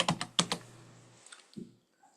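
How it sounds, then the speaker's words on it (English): Keystrokes on a computer keyboard while typing a word into drafting software: a quick close burst of clicks at the start, then a few softer taps trailing off into quiet. "and then we're going to type in duplicate."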